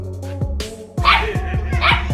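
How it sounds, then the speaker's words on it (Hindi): A dog barks at a rooster in a short run of sharp, close barks, several quick yips following a louder opening bark, with no talking. "ये कुत्ता यहाँ पर आकर इस मुर्गे के सामने बहुत देर से भौंक रहा होता है"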